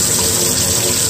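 Tap water runs hard from a sink to create suction for siphoning water out of a fish tank, a steady loud close rushing gush with no break.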